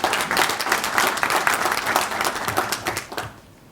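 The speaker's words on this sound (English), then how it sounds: "you can give the staff and students of the University of Johannesburg a round of applause" An audience at a University of Johannesburg stakeholder event gives a round of applause for its staff and students, a steady burst of many hands clapping that tapers off and fades in the last half second.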